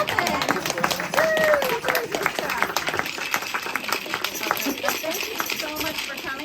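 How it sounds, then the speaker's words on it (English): An audience claps at a book launch and music event, loud at first and then thinning into scattered claps, with voices and cheering over it. "Clap it!"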